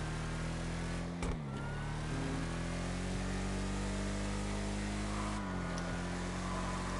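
A Gauntlet Classic muscle car in GTA Online holds a steady, droning engine note, with two brief shifts in pitch as it changes gear. It sounds continuous and fairly close.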